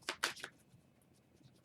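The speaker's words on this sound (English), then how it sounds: "let me give it a quick shuffle right now" A tarot deck shuffled by hand gives three quick, close papery riffling bursts, then the sound fades to near silence.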